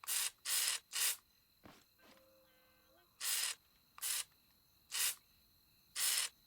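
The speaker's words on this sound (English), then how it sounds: "You can hear the spray now." Spray paint hissing in a building video game, heard as repeated short broadband bursts of roughly half a second each, loud and separated by pauses, with a faint electronic tone and a brief higher sound in between.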